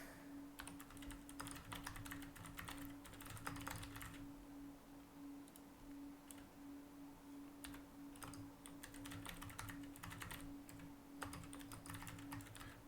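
Typing on a computer keyboard while coding in Visual Studio: quiet, close key clatter in irregular bursts with brief pauses, alone over a steady low hum.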